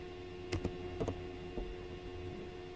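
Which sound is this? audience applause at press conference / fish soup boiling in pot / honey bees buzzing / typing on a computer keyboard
typing on a computer keyboard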